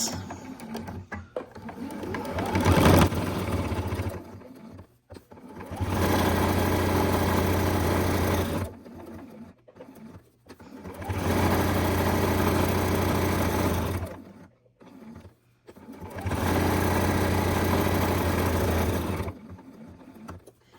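A sewing machine stitches around the batting edge of a quilted four-patch coaster, a quarter inch in, in four long steady bursts separated by short pauses, close and fairly quiet with no talk.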